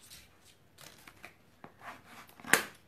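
A freshly printed proof copy of a computer guide book being unpacked from its package: scattered soft rustles and small handling clicks build to one sharp crinkle or tear near the end, close and fairly quiet.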